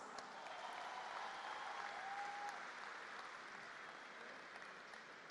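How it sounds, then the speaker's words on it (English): Steady applause from an audience at a community programme in Malaysia, a continuous faint wash of clapping heard from a distance with no voices over it. "Please give them a round of applause."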